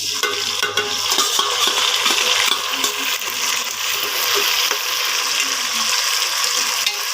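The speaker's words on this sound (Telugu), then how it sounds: "తర్వాత టమోటాలు వేస్తున్నాను." Tomatoes tossed into onions frying in hot oil for a fish curry, a steady loud sizzle with scraping and stirring of the pan throughout.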